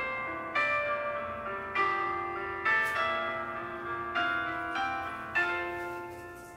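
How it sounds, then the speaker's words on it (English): A short chime-like melody, generated from two names and played from a phone, rings out as a series of bright tonal notes in a steady rhythm, each struck note decaying before the next, fairly soft and close with no talk over it. "you can hear the melody that our names make"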